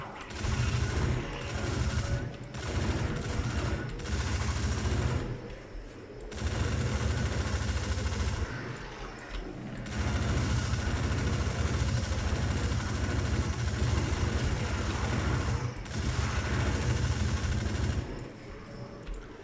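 Gunfire from a weapon in the video game Outcast Second Contact, loud sustained bursts of rapid shots lasting several seconds each, broken by brief pauses, with mechanical clatter and game ambience between bursts.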